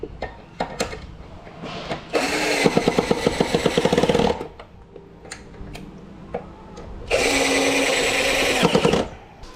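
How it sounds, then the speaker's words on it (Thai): Power drill driving screws to join two wooden boards for a homemade bed, two loud whirring bursts of a few seconds each that rise and stop, with clicks and knocks of handling between them. "แต่ว่าผมก็จะ ยิงน็อตเอานะครับ"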